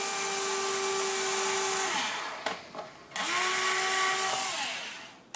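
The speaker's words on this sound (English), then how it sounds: "And we'll drill this one." A power drill bores a hole through wood and a body support lug on a 380 quad, whining steadily, stopping briefly, then spinning up again for a second sustained run.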